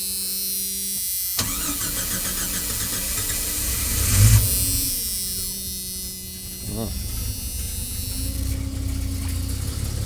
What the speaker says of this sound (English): So I guess we're gonna fire her up and see if we get the same smoke issue